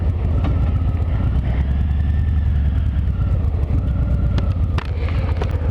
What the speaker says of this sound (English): when I downshift, I have to blip that throttle so that I can match the RPMs with the engine speed